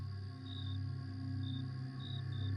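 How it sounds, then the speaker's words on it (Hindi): Crickets chirp on a quiet, still night, with short, thin trills repeating at intervals over a steady low hum, faint and distant. "केवल झींगुरों की आवाज उस सन्नाटे को तोड़ रही थी।"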